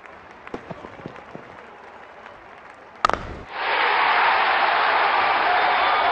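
A cricket stadium crowd at a Major League Cricket 2023 match erupts after a sharp crack: scattered noises first, then a loud, sustained roar of cheering that holds steady to the end.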